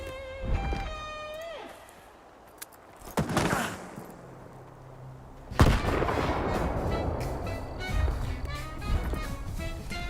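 A grenade going off in the video game Stalker, a heavy boom followed by rumbling aftermath and more in-game combat noise and music, loud and close.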